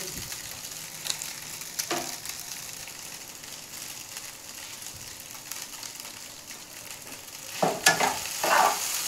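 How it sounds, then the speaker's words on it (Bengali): Maggi masala spice mix frying in a pan for a Maggi puri, with a soft continuous sizzle, occasional stirring scrapes and a few louder clatters near the end, no voices. "আবারও একবার ভালো করে ভেজে নিব আমি।"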